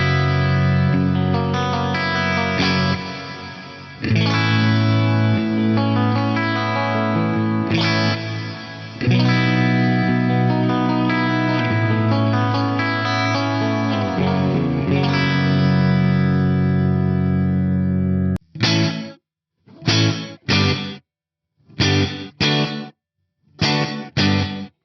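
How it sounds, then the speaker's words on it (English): Distorted electric guitar runs through a gated reverb on a Fractal FM9 amp modeler. Thick sustained chords ring loudly, then give way to short chopped stabs that cut off abruptly into silence. "I really like this gated reverb type as a thickening agent"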